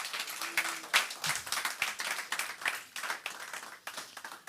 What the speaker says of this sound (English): can we show by giving him a resounding applause?